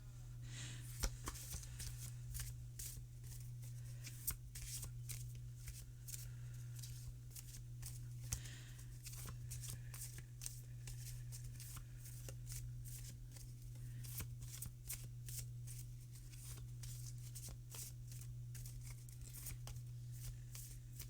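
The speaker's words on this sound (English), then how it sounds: "we shuffle to set the deck" Quiet, repeated riffling and snapping of cards continues for about twenty seconds over a steady low hum, with no talking.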